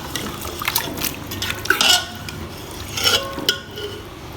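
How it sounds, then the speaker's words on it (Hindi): Chicken being sautéed in a pan for Pakistani bhindi gosht, with a utensil stirring and scraping through wet, bubbling pieces and a few sharp clinks against the pan, close and moderately loud, with no talking. "अब हम चिकन को अच्छे से भून लेते हैं।"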